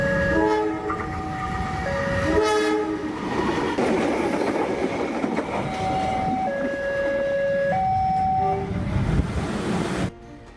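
Malabar train passing a level crossing, loud clattering wheels and rumbling cars close by, with the horn blaring in several sustained tones over the passing train.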